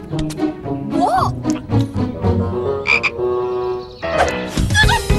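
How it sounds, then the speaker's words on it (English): Cartoon frog croaking from inside a boy's trousers in an animated children's comedy, loud repeated croaks mixed with excited character voices and cartoon sound effects. "There's a frog in my trousers!"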